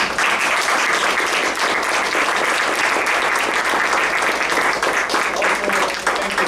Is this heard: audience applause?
yes